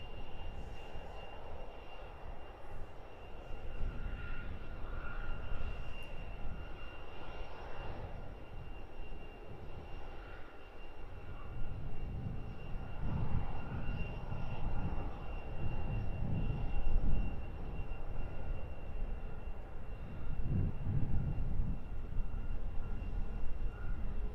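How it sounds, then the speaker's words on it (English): Aircraft engines rumble at an airport runway, a steady low drone that swells and fades as planes taxi and move off, heard from a distance with no voices. "These aircraft definitely in no mad hurry once they get to the runway"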